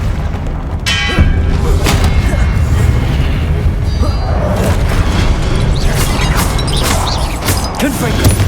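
Spell blasts such as Incendio and Confringo in Hogwarts Legacy land as repeated booming thumps and bursts over a dense, loud rumbling combat bed.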